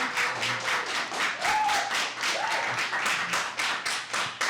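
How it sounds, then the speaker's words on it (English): Applause from an audience at a Board of Aldermen meeting fills the room, a dense, steady clapping that holds for several seconds without voices over it. "It will go much better if we don't applaud."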